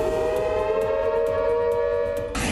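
A civil defense air raid siren holds a steady, loud wailing tone throughout, with no other sounds over it.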